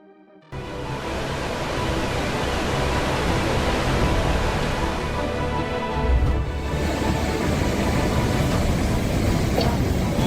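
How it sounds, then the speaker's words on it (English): Loud, continuous roar of rushing flash flood water, steady and dense like a torrent, with a brief low thump midway and no voices. "Raging waters lifted cars off the streets, carrying them away like toys"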